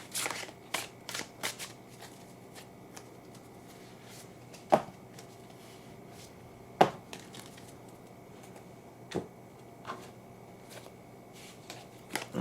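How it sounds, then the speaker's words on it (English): Playing cards shuffled and tossed down during a tarot-style card reading, heard as soft close riffling punctuated by a few sharper slaps and taps spaced apart, without any speech. "I'm shuffling, and I'm throwing the cards."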